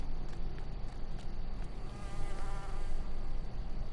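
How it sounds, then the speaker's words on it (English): A bee buzzes in the Alpine farm setting of Farming Simulator, a steady, thin droning hum heard alone against a low ambient background. "There's a bee."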